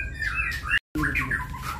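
A murai batu, the white-rumped shama, sings close by in short bright whistled phrases, broken by a brief cut in the middle.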